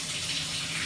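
Hot water runs steadily from the outlet of a newly installed A.O. Smith water heater on a Wisconsin dairy farm, a continuous close rushing flow with no talk.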